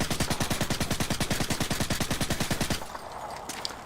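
Suppressed UMP submachine gun firing in Modern Warfare 2 Remastered, a rapid even burst of about thirty muffled shots lasting under three seconds, then stopping with faint game sounds after, loud and close, no talking.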